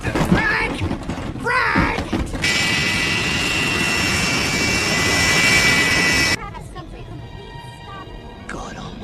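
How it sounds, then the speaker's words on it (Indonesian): A jet airliner comes in to land in a film scene: a loud, steady engine roar holds for several seconds, then cuts off abruptly to a quieter, mechanical background, with voices heard around it. "ketika pesawat masih melakukan proses pendaratan"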